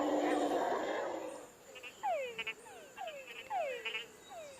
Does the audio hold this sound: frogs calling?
yes